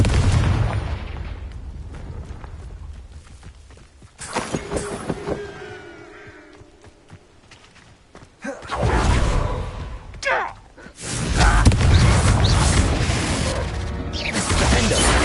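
Fiery blasting-spell explosions in the Hogwarts Legacy video game, heavy booms and roaring bursts that swell and fade in waves over the stretch, loud and close with whooshing magical effects between them.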